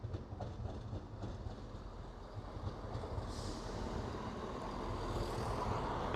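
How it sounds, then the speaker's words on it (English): A cross-country passenger train rolls into Derby station, a low rumbling and clattering of wheels that grows gradually louder as it approaches, steady and fairly faint with no talking. "Arriving in now will be your 11:08 cross-country service from Nottingham through to Birmingham New Street."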